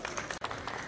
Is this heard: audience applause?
yes